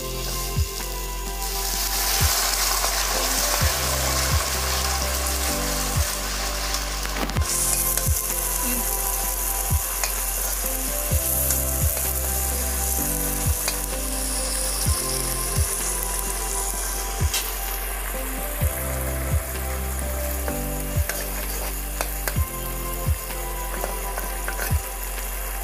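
Potatoes and bhedai lota fry in a pan with a constant loud sizzle. A utensil knocks against the pan in regular stirring clacks throughout.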